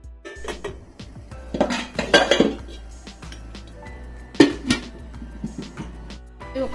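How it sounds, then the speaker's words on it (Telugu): Metal clinks and clatters as a lid goes back onto a cooking pot of junnu (colostrum pudding), several scraping and chinking contacts over a few seconds, close and fairly loud. "సో మళ్ళీ మూత పెట్టేద్దాం."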